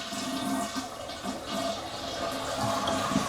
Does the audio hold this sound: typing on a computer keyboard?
no